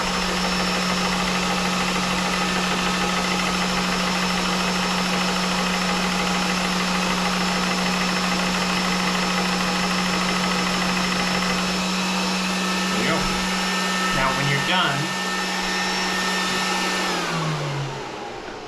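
A GX CS1 PCP air compressor runs steadily at close range, building pressure with a loud, constant droning hum and mechanical rattle that holds for most of the stretch before winding down near the end.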